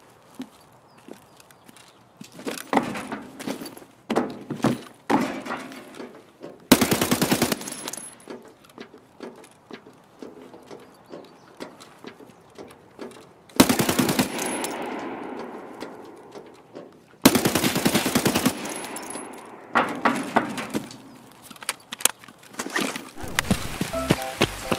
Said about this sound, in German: er hat gerade das Magazin geklippt